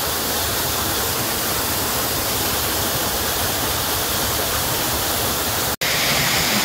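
Rushing water from a waterfall roars as a loud, constant broadband wash, with a brief dropout near the end before the roar resumes.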